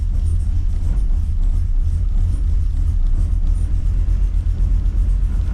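A Holden VX SS Commodore's V8 idles in first gear with its foot off the brake, producing a steady, loud low rumble that stays even throughout, close by and with no speech.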